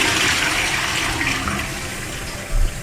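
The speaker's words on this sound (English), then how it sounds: "so we just flush that again." A household toilet flushes nearby, a loud rush of swirling water that slowly fades into gurgling refill, with a brief splash near the end.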